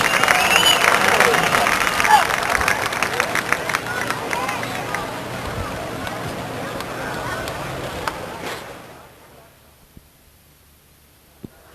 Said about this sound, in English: Let's have a great round of applause for all the competitors in the USAC midget race.